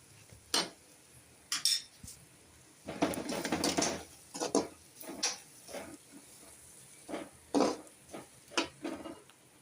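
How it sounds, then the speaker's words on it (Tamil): Soy sauce and tomato ketchup being stirred and sautéed in a pan for egg noodles, with repeated close metallic scrapes and clinks of a spoon against the pan in uneven bursts over a faint background. "நல்லா வதக்குவோம்."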